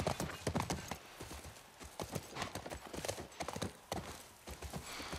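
Horse hooves clip-clop steadily in The Last of Us Part 1, a rapid, rhythmic trot of sharp knocks with a faint whinny-like texture, close and continuous throughout.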